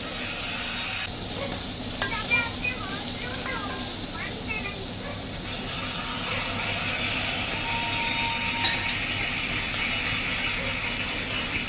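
Chopped onion fries in a pan on a cooking setup inside a vehicle, giving a steady close sizzle broken by scraping stirs, with some talk in the background.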